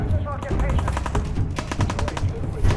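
Rapid automatic gunfire in Fallout 4 rattles steadily and loudly for a few seconds, a fast run of close shots with a voice speaking underneath.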